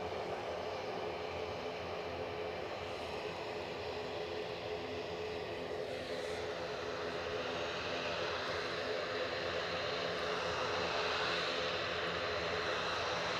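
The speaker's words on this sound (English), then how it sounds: "let's go with the EasyJet that is on its way out." An EasyJet airliner departing Edinburgh Airport gives a steady, distant engine roar, a faint broadband rumble that holds evenly throughout with no voices.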